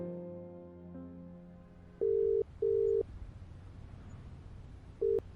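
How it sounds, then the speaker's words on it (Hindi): A phone call is placed: a fading tone gives way to three short, loud, even beeps of a call signal on a handset, heard alone in a quiet room. "अब की बार प्रियंका ने फोन उठाया और सीधे मोहित को फोन कर दिया।"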